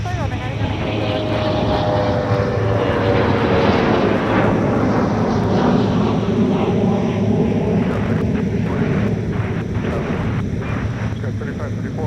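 Delta airliner engines roar loudly and steadily at Minneapolis–Saint Paul airport for about twelve seconds, with a rising whine threaded through the continuous rumble and faint radio chatter underneath.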